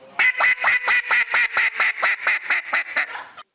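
A person duck calling at a hunting club's annual contest, mimicking a hen duck's quack: a steady run of about fourteen loud, evenly spaced nasal quacks that taper slightly toward the end, with no talking.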